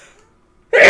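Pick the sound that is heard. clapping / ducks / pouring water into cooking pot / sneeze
sneeze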